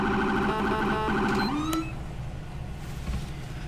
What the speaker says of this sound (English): Does the siren sound quite new?